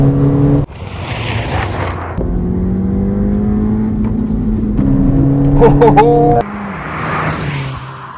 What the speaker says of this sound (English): today we're driving a Fiesta ST